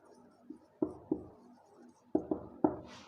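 Pen or chalk writing out an English sentence during a lesson, heard as several sharp taps and short scratchy strokes in irregular bursts, close and moderately loud with no talking.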